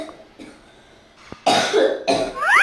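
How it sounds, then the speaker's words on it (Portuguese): A woman coughs loudly and harshly in two close bursts at home, preceded by quieter rustling. "Ela tá tossindo"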